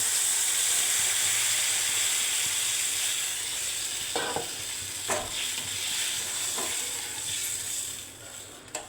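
A white potato curry tempered with black cumin sizzles loudly in a pan as water goes in, a dense steady hiss with a few sharp spatters and bubbling clicks, easing slightly toward the end, close and without voices.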